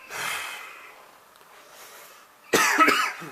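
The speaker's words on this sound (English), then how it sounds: "I'm coughing and stuff a lot" A breathy exhale is followed by a single harsh, close cough near the end, with quiet room noise between.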